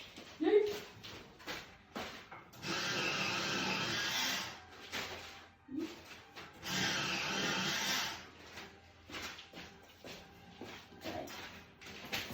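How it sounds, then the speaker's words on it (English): A drawing pencil is sharpened during a koala sketch, giving two sustained grinding whirs of a few seconds each. Quiet gaps and brief faint vocal sounds fall between them. "I'm just gonna sharpen real quick."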